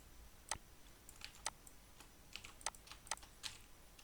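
Computer keyboard keys pressed repeatedly as Ctrl+R shortcuts while working in CorelDRAW, giving about eight sharp, quiet clicks at irregular intervals over soft background hiss.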